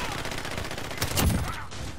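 Rapid gunfire bursts from a Call of Duty: Modern Warfare match, a dense crackle of shots running throughout and swelling to a louder, heavier volley near the middle.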